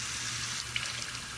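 Tap water runs steadily from a faucet into a sink while a makeup sponge is wetted, a continuous close hiss of flowing water.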